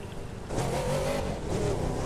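Old classic car in The Crew 2 revving hard on a test drive, a loud, steady engine drone that rises from about half a second in and holds with shifting pitch, close and continuous.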